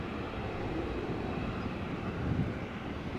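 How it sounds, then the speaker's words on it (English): Airliner engine rumble at Amsterdam Schiphol in gusty crosswind, a steady broadband roar that swells slightly as the plane approaches the runway entrance, fairly distant and continuous with no talk. "You can already hear the next airplane."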